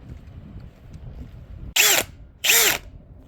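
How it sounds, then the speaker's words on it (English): Two short, loud bursts of a power drill whirring as it removes a drain inspection lid, each under half a second, separated by a brief pause after a quiet stretch of background noise. "Let's get the drill and take the lid off."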